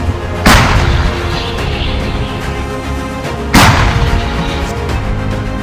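Two heavy artillery gun blasts firing shells in rapid succession, roughly three seconds apart, each a sharp booming crack followed by a long rumbling roar that slowly fades.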